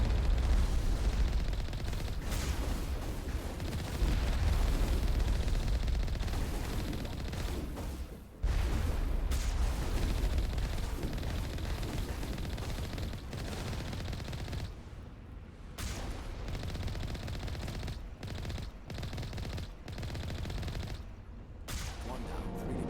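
Sustained gunfire in the Mass Effect 1 video game, aimed at a geth ship, with dense rapid bursts continuing over a loud rumbling game mix for most of the stretch and brief gaps between volleys near the end.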